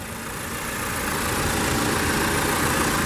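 A 2019 Audi Q5 Prestige with the 2.0T engine and quattro all-wheel drive idles steadily, a continuous close, even engine drone holding level throughout with no talking.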